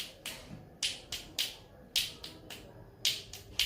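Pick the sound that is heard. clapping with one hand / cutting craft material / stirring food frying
clapping with one hand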